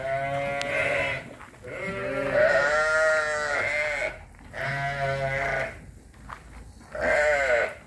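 Pregnant ewes close to lambing bleat on a farm, several loud, drawn-out calls in overlapping bursts from nearby animals with brief pauses between.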